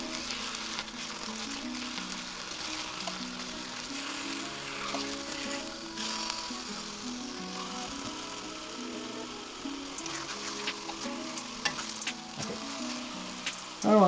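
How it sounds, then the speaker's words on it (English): Food sizzles steadily in a frying pan while a one-pan roast chicken dinner is cooked, a constant close hiss with a few faint clinks of utensils, no voices. "I don't want to sizzle it too long"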